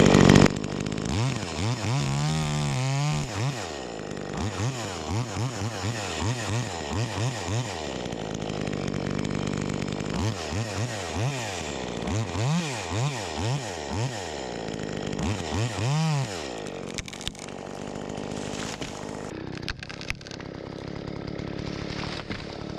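A V-Modest 2511 top-handle chainsaw, an Echo 2511 clone, cuts into a tree close by, its engine revving up and down in repeated bursts with steady idling between, loud throughout and ending in rattling clatter.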